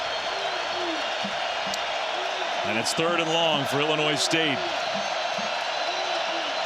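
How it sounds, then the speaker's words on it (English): A dense stadium crowd roars steadily at an FCS championship college football game between Montana State and Illinois State, a constant broad wash of noise under a play-by-play announcer talking throughout. "Crowd noise is going to be a factor"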